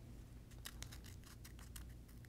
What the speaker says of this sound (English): I just snip into it like this